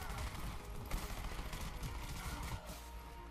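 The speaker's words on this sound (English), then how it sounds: "I just thought a guy was shooting at me." Rapid bursts of gunfire from the shooter video game Titanfall crackle densely throughout, loud and continuous with overlapping shots and game noise, no clear speech.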